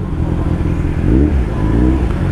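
Motorcycles and cars pass close by on Marcos Highway, a rising engine rev and whirring traffic swelling midway through, loud and near with no talk.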